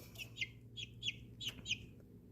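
A handful of small, high peeps from young chickens on a homestead, about six short calls in quick succession over a low, steady background hum.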